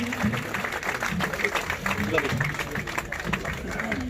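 An audience at a felicitation ceremony gives sustained, moderately loud applause, a dense continuous patter of clapping with talk mixed in.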